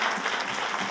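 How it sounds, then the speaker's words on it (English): Audience at a city State of the City address applauding someone speaker, a brief, moderately loud wash of clapping. "Let's give her a round of applause."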